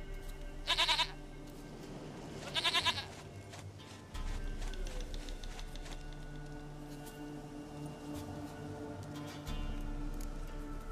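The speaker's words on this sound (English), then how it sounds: "Goat of mine, dearest, sweetest goat." A goat in the video game The Witcher 3 gives two short, loud bleats near the start, over steady low game ambience and a background hum.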